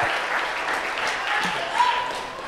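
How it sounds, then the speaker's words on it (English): Audience applause at a stand-up comedy show, a dense spread of clapping filling the room at steady loudness with faint voices mixed in. "How about a nice round of applause for all my talented co-workers and yourselves"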